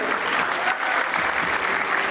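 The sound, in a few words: audience applause at a college event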